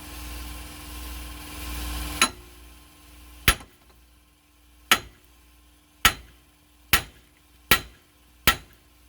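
Sharp metallic hammer blows striking to loosen a Subaru axle, six loud ringing hits spaced about a second apart, each with a short decay, close and with no talking.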